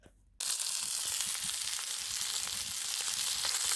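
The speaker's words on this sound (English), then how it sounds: "I've got the meat on, and the peas and carrots are boiling away." Meat sizzles on a hot plate over campfire coals, a bright, crackling fry that bursts in after a brief quiet moment and then hisses steadily with small pops, close and alone.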